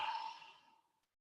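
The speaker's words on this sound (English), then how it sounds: "A big yawn." A big yawn during a guided Cognomovement session, heard as a single close, breathy exhale that trails off over about a second, with no speech.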